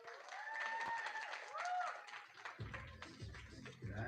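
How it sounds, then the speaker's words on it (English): Guests at a wedding reception applaud the groom's parents, a faint spread of clapping from a crowd heard at some distance beneath an amplified voice and ringing tones. "One more time. Big round of applause for the parents of the groom."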